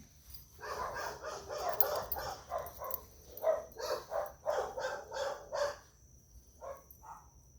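Dogs bark repeatedly next door, moderately distant and outdoors, in a run of quick, overlapping barks that trail off into a final pair. A faint steady high tone sits underneath.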